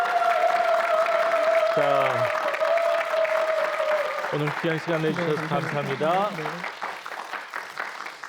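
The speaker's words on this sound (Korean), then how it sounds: "여러분 다시 한번 감사의 박수 부탁드리겠습니다" Audience applause rises for a minister at a televised policy talk event, running under a host's speech and continuing as the talking goes on.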